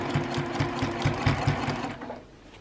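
A sewing machine stitches a seam on a reversible tote bag, a close, steady rhythmic chatter of needle strokes with a low motor hum that fades out near the end, with no voices.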